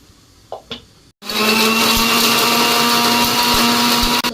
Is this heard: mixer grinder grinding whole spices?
yes